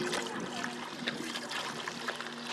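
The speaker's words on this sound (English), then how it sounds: "we're going to add the water first" Water is poured into a cooking vessel ahead of hot rocks and meat, a soft, faint trickling and splashing that carries on steadily for a couple of seconds.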